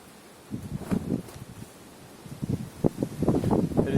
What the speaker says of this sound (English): It is insanely windy